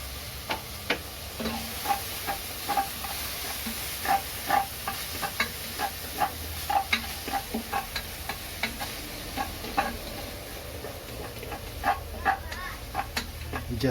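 Tomatoes are stirred in a pan while cooking pork caldereta: rhythmic scrapes and clicks of a utensil against the pan over a steady sizzle of frying, close and moderately loud, with occasional soft speech.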